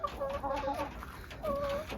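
Brahma chickens on a cold farm give soft, rising clucks and short warbling calls in two close bursts over a low background rumble, with no voice.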